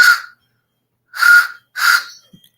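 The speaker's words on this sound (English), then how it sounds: "it's like when you're a kid, you do a train whistle. I bought one to try to do it out there" A toy train whistle blown three times in short, breathy, airy bursts, the first brief and the next two longer, with silent gaps between and no talking.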